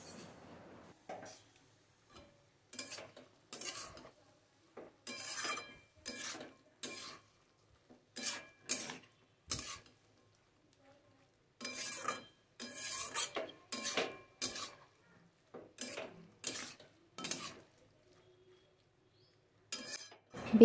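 Banana blossom being stirred into spice masala in a pan, heard as repeated bursts of scraping and clinking from a utensil against the pan in an irregular rhythm, close and fairly quiet, with short pauses and no talking.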